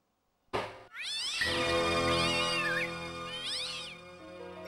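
Several drawn-out cat meows, loud and close in the Registered Users Demo game on PS1/PS3, rising and falling in pitch over a soft background hum.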